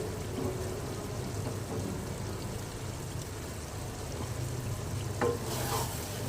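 Peas and mutton mince fry in a pan with a continuous low sizzle and soft stirring scrapes, plus a brief clink near the end; no talking.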